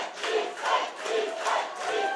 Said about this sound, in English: You can hear the crowd in front of us. They're excited.